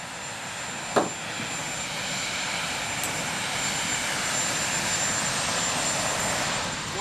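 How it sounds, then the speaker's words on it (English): A helicopter lifting off from the US Capitol grounds after the 2017 presidential inauguration gives a steady, broad rotor-and-engine roar that holds loud and even throughout, with one brief sharp knock near the start. "he'll get aboard that helicopter and prepare to fly out of the US Capitol"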